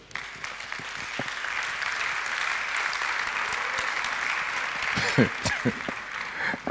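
A church congregation at a solemn worship gathering applauds the Lord with steady, dense clapping that holds at the same level throughout, with a few sharper individual claps standing out near the end.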